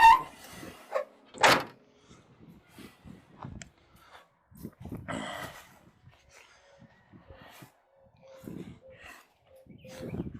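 A car door thumps shut with a solid clunk, followed by another door bang and quieter latch clicks and rattles, with pauses between.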